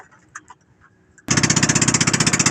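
A small boat engine, reluctant in cold rainy weather, suddenly catches after a brief quiet sputter and settles into a loud, steady, rapidly chugging idle close by.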